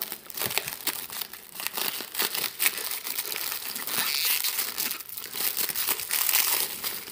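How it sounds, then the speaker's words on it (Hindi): Continuous crinkling and rustling of plastic wrapping being peeled off a Crompton immersion water heater rod, close and steady with small crackling bursts throughout, no talking. "अब इसकी पन्नी हम निकालते हैं"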